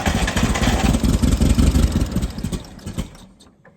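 A propane-fueled LP forklift engine runs on light throttle, giving a loud, rough, low chugging that pulses unevenly and then dies away to quiet within a few seconds.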